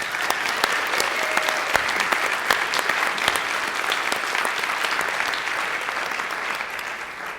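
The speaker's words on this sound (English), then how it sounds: "Give yourselves a round of applause" Sustained applause from a live audience, dense steady clapping throughout with scattered sharper claps standing out, fading slightly toward the end.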